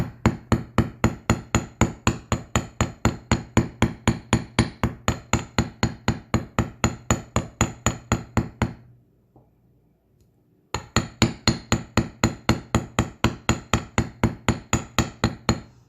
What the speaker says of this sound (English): And I'm not hammering very hard